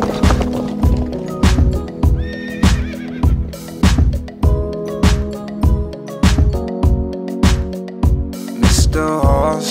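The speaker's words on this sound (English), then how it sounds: "All the horse sees is a wolf. So he bolts away." A horse flees a wolf at full gallop, with regular rhythmic hoofbeats and a whinny sounding over a steady musical bed, loud and close throughout.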